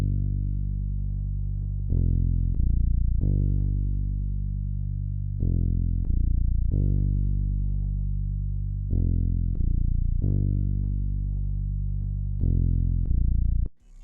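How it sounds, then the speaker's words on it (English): Fretless bass guitar patch from the Purity plugin's Bass Guitars set plays a clean, deep bass line, with round sustained notes sliding between pitches in a steady groove, loud and with no voices. "Then next I added like a guitar bass from Purity again. It's called the Fretless bass from Bass Guitars"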